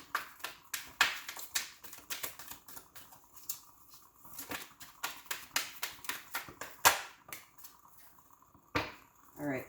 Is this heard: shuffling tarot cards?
yes